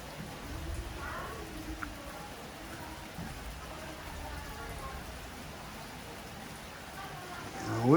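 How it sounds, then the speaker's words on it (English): Rain falls in a steady, soft hiss, a continuous wash of drops that stays even throughout, with faint background sounds near the end. "We're getting a pretty good rain."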